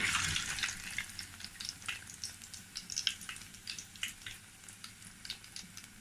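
Plantain fries in a pan with a steady crackling sizzle, full of rapid pops and spits that keep going without a break and stay fairly close and moderately loud.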